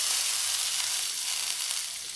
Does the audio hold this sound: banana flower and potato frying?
yes